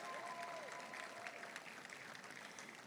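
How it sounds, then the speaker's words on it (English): An audience at a Gardena State of the City Address applauds the Gardena Police Department, a steady, dense wash of clapping that stays fairly even for about three seconds and then thins slightly, with no voices over it. "Go on and give them a round of applause."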